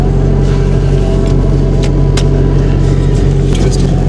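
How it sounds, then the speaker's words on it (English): A Toyota Altezza with a swapped-in SR20 engine idles close and loud, a steady low droning hum, with heavy vibration noted and a few light knocks over the rumble. "ridiculously heavy vibration while the car is idling"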